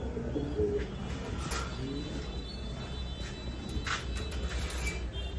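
Red Lahori fancy pigeons coo at a farm, soft low throaty coos repeating close by over a steady background hum, with a few faint chirps and no talk.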